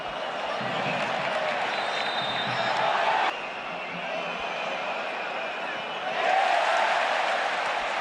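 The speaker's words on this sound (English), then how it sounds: "Another huge cheer as Gerard Martin went to 0-0." Stadium crowd roar from a Barcelona versus Real Madrid football video game match, a steady loud wash of cheering that dips briefly then swells again toward the end.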